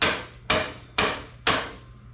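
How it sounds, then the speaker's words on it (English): A hammer strikes metal parts of a Mega Moto 212 rear swing arm kit as they are tapped into place. Four sharp, evenly spaced blows land about half a second apart, close and loud, each ringing briefly before the next. "And then we got our trusty hammer here. It's gonna help us get this thing on through."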